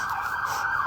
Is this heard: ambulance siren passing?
yes